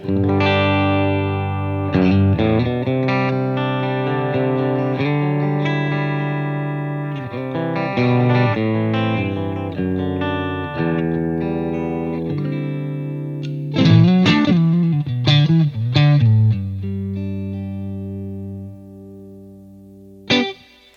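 Distorted, saturated electric guitar through an SSL PureDrive at its lowest impedance setting, playing a riff of sustained chords and single notes, loud and thick, with no voices.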